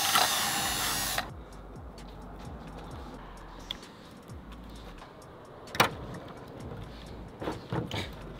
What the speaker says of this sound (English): That'll get drilled.